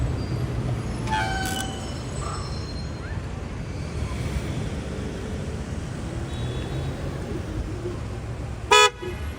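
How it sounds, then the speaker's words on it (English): Car horns honk briefly on Ocean Parkway in Brooklyn, New York City: one short toot early on and another near the end, set against a steady roar of passing traffic and wind. "Now, what's the point of that honk?"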